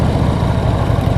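A 2015 Harley-Davidson Street Glide engine running, a loud, close, low rumbling throb held steady through the whole short stretch with no voices over it.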